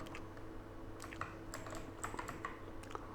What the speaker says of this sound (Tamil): இதில் வந்து ஆவாரம்பூ பொடினே டைப் பண்ணிக்கிறங்க.